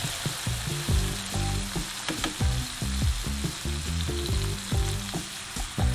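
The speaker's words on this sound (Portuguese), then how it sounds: "Vamos refogar mais um pouco para que as azeitonas e alcaparras soltem seu sabor." Tomato sauce with olives, capers and anchovies sautés in a pan for spaghetti puttanesca, a loud continuous frying sizzle broken by frequent close stirring scrapes and utensil clatter.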